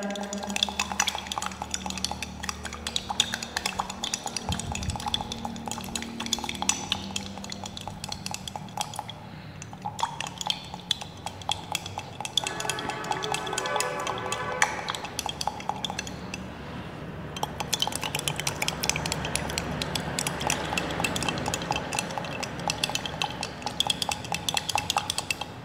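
Metal spoon rapidly stirring sugar into water in a glass, a close, continuous rattle of clinks and scrapes against the glass that keeps going for nearly half a minute with no talk over it.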